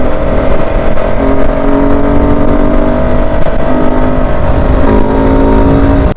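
A Yamaha R15 V3 motorcycle fitted with a changed air filter runs loud and near, a sustained engine drone whose pitch rises and falls slightly as it is revved, with no talking.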